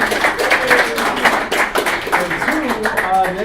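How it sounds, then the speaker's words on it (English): A conference audience claps in a round of applause, with dense, fairly loud, irregular clapping while voices talk over it. "give yourself a round of applause"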